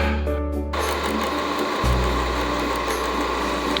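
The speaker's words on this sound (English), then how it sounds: "That's what I'm doing right there, just milling it out, picking it up, blowing it out." A milling tool cuts out old threads in a part for a Toyota 4A-GE turbo engine build on a 1985 MR2, a loud continuous mechanical whir whose pitch drops partway through, no voices.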